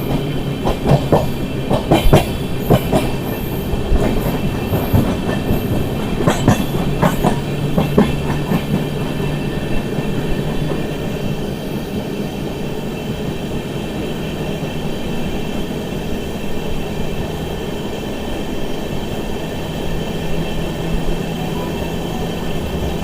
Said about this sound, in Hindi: दोस्तों हमारी ट्रेन का अराइवल हो रहा है इस समय जगाधरी वर्कशॉप पर